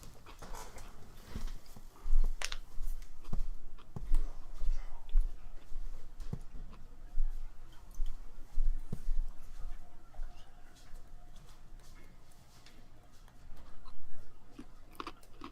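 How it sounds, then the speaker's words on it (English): A person crunching and chewing pretzels close to the mic, with irregular bursts of crisp crunches and mouth noises over a low background hum, no talking. "Yes, I'm eating pretzels."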